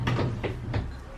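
A drawer in a student dorm room in Suzhou, China slides open, three short wooden scraping pulls in quick succession, close and fairly quiet.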